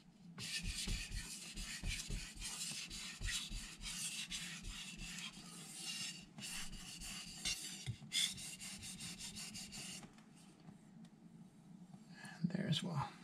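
A carbon steel knife is drawn repeatedly across a Miyagoshi whetstone, making rhythmic, close rasping strokes in quick succession, then a pause and a few more scrapes; faint talk is heard at times.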